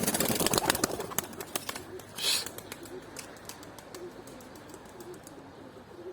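Released pigeons take off, with a flurry of rapid wing flaps loudest at the start and thinning out, some soft cooing and faint chirps, and a brief rustling swell midway.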